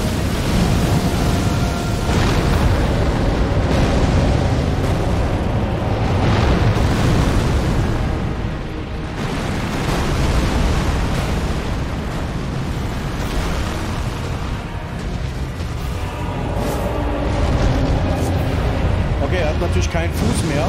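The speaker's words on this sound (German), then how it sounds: "Alles um ihn herum explodiert gefühlt." Fire giant boss fight in Elden Ring on PS5, continuous loud rumbling fire explosions and booming blasts throughout, with someone talking over the din.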